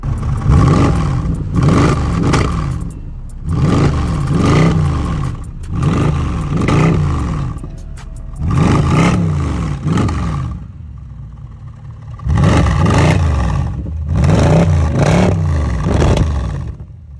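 Car with an aftermarket cat-back exhaust and no secondary cats or resonators revving repeatedly, loud rising and falling bursts of engine roar in a rhythmic series with short pauses between, close up and without talk.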